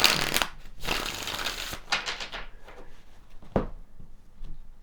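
Tarot cards are shuffled and drawn by hand, with crisp riffling bursts and flicks early on, then softer slides and a single sharp snap as cards are laid out.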